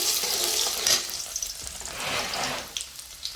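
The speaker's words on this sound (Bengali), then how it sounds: "ভাজা হয়ে গেলে এর মধ্যে দিয়ে দেবো কেটে রাখা রসুন কুচি। এগুলো একটু ভেজে নেব।" Chopped garlic and dried chilies fry in hot oil, giving a bright, crackling sizzle that swells and eases as the pan is stirred, close and continuous with no one talking.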